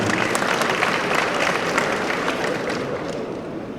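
A large crowd at a transport-school graduation claps steadily, a thick, close wash of applause with a few sharper individual claps poking through, fading a little at the finish.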